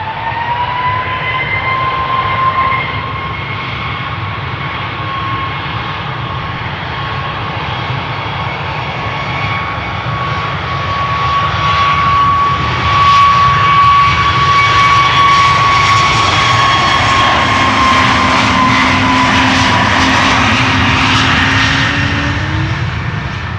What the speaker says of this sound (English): First up, another Max from Iceland Air.